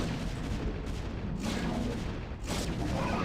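Cannon fire in a strategy video game, booming shots in quick succession with noisy blasts that trail off between them, no talking.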